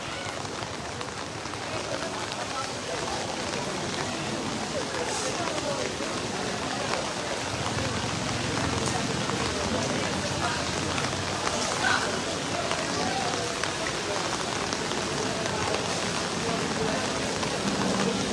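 Rain falls steadily on an outdoor cattle market with tarpaulin covers, a dense continuous patter of drops on surfaces lasting throughout.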